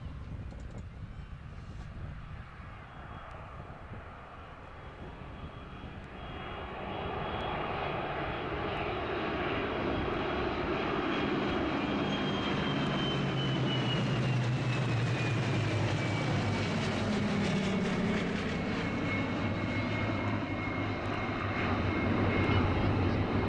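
Aircraft engines at Duxford airfield produce a loud, steady propeller drone that swells after the opening seconds and holds, with a slowly falling whine laid over it as the aircraft passes nearby.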